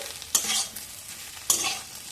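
Potatoes and okra fry in a pan with a soft sizzle, broken by two close stirring scrapes about a second apart.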